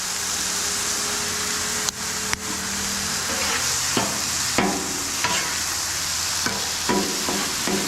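Garlic paste being stirred into a hot, sizzling pan for chicken tortellini, a steady frying hiss broken by several sharp scrapes and clicks of the utensil against the pan.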